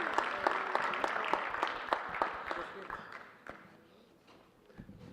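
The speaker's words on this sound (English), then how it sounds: "Let's give her a round of applause" Audience applause for an honoree at a board of education honors and recognition ceremony, a dense, steady patter of many hands clapping in a hall for several seconds before tapering off near the end.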